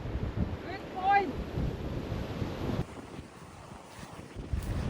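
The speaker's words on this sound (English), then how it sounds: "there's equally as much wind here" Strong wind gusts buffet the microphone on a beach in Istria, Croatia, with a low roaring rumble and surf in the background, while a voice is briefly heard early on.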